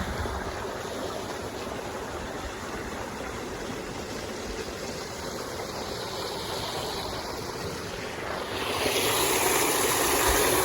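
Steady rushing water flowing into a paddy field, a continuous broadband wash that swells slightly louder near the end, with no voices.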